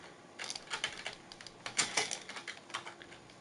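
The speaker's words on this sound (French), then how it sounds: "On entend un clavier en 4K." Rapid, light clicking of keys on a computer keyboard, irregular and fairly close, with no talking.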